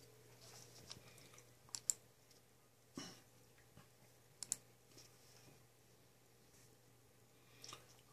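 Sparse, quiet clicks and a few keystrokes from a PC keyboard and mouse, scattered irregularly across a near-silent room with long gaps between them.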